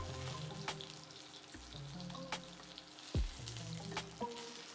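Sous vide ribeye steak searing in butter in a hot pan, a quiet continuous sizzle with a few sharp clicks and scrapes as the meat is moved around, no speech.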